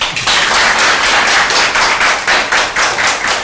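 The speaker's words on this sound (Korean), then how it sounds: "박수 한번 쳐주십시오" An audience at a Korean seminar with a psychodrama session claps steadily for a retired guest doctor coming on stage: loud, even, rhythmic applause filling the whole stretch without speech.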